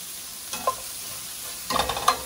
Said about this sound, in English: Give this a quick toss, and then we're going to serve that with our pasta, the side dish,